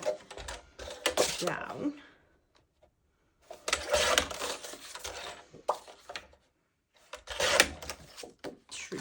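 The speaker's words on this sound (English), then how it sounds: "So I'm going to take my trimmer and let's just cut the white card" A paper trimmer slices white card for a handmade greeting card, giving repeated short scraping, sliding strokes in bursts with pauses between, close and fairly quiet, with a voice speaking briefly alongside.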